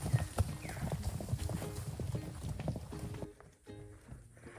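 Horse hooves clip-clop at a slow walk on a mountain outing, a steady run of close, distinct knocks that fade into quieter ambience near the end.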